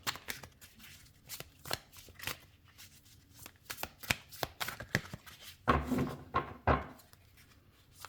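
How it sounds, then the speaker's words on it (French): A deck of tarot cards being reshuffled by hand, heard as a run of quick papery riffles and soft taps in a quiet room, with two louder, fuller shuffling bursts near the end. "donc je remélange mon jeu"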